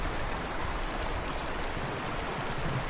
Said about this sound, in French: Regarde le ruisseau.